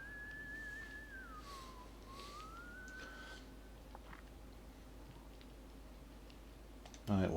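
A faint, eerie whistled tune drifts through a school at night in the video game White Day: A Labyrinth Named School, gliding down and back up over a few seconds. A quiet hum follows, then a sharp click at the very end.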